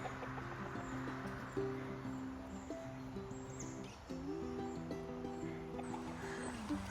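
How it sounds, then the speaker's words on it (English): Chickens clucking and calling nearby in a steady mix of short repeated notes, with faint background bird chirps. "Chickens."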